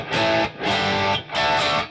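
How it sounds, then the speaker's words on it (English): Three loud, sustained chords of electric guitar through a Boss Katana amplifier with a distortion pedal, each ringing out with a thick, buzzing tone before a short break. "if I switch on a distortion pedal,"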